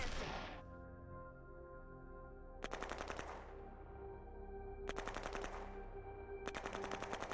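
Bursts of rapid automatic gunfire erupt in three separate volleys during an attack in the Shadow Empire strategy game, each rattling salvo lasting under a second over a steady low hum.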